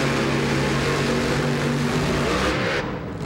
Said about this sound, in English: Both of them with alcohol burning, big block Chevrolet engine